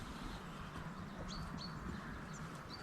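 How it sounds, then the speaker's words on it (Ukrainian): Faint spring birdsong drifts outdoors as several short high chirps and tweets, scattered over a steady low background hum. "Пташечки співають, гарно так."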